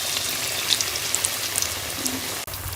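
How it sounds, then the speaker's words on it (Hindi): Bread samosas sizzle in hot oil, a steady, close crackling hiss that holds evenly throughout with no talk. "हम इसे फ्राई कर लेंगे और इसी तरह बाकी भी मैं जो है वो डिप करके तो फ्राई कर लूँगी"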